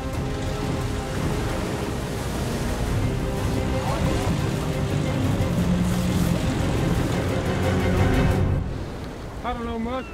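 An outboard boat motor runs steadily in rough surf with waves crashing, a constant loud wash of engine and water noise throughout. It fades briefly near the end, and a voice is heard.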